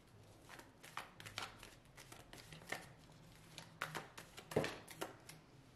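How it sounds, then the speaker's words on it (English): An oracle card deck shuffled by hand, a quick run of crisp riffling and flicking bursts with small taps, close up and fairly quiet, with no talk over it. "Let's pull from this Oracle deck here. Give us a quick shuffle."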